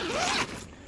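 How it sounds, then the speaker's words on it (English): The door zipper of an Ayamaya 6-to-8-person tent is pulled open in one quick, close rasping stroke, rising in pitch, then stops. "Now there's a zipper inside, so you can unzip from inside"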